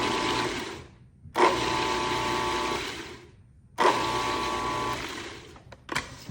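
A blender whirls fresh garden tomatoes for salsa in two loud bursts of steady motor whine, each lasting over a second, separated by a short pause, with a brief clack near the end.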